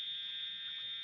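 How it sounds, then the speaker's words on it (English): An indoor fire alarm sounds a loud, steady high-pitched electronic tone that holds without a break throughout, with no speech over it. "I apologize, there's a fire alarm."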